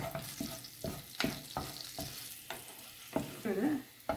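Chili flakes and ground paprika stirred in hot oil in a pan give a soft, quiet sizzle with repeated scraping strokes of a spoon at an uneven rhythm, heard close with no voices.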